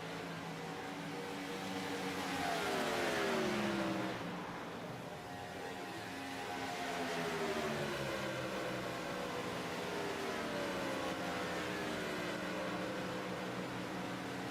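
Race cars in a sim racing series at Atlanta rush through corners 1 and 2, a steady engine drone with rising and falling pitch sweeps from several cars passing at a distance, no voices.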